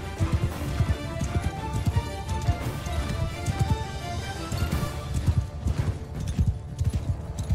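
Galloping horse hooves in the Mount & Blade 2: Bannerlord video game (Realm of Thrones mod), a steady rapid clip-clop drumming throughout with a brief whinny and game music underneath, no talk.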